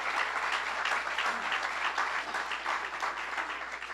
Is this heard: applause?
yes